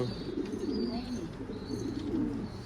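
A caught runaway pigeon coos in low, throaty burbling rolls, close by, with a faint voice murmuring in the background.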